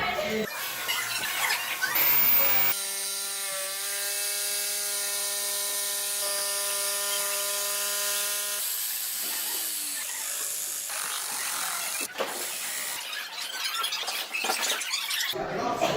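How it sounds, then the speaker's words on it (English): A router fitted with a chamfer bit cuts an angled inside edge, giving a loud, steady high-pitched whine for several seconds amid rougher broadband cutting and handling noise before and after. "Using this cool chamfer bit is going to give me a nice angle on the inside."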